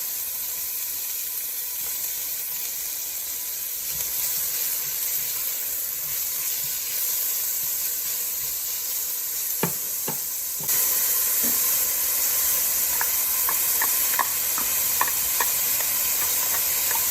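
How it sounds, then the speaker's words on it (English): Chopped onions cooking in olive oil in a pot on the stove give a steady, even sizzle and hiss, with a few light clinks and stirring scrapes from a utensil toward the end; no one speaks. "So we cook this until the onions start to soften."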